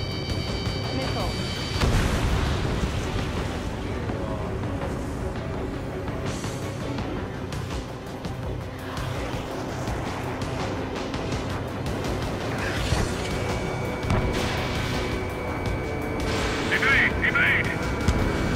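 Missiles launched and detonating in the Ace Combat 7 flight combat game, dense layered booms and crackling blasts over a constant jet roar, with a radio voice calling out lock-ons and launches throughout.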